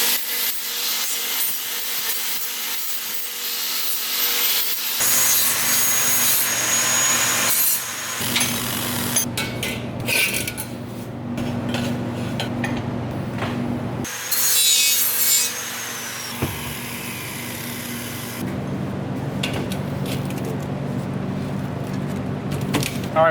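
Steady abrasive grinding on cut scrap steel pieces being cleaned up for a welding cart, loud and continuous with brief changes in pitch and short breaks between passes.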